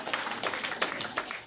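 A comedy club audience at the Kings Head in Cirencester applauds, a short patter of scattered hand claps at moderate distance, fairly faint and thinning out.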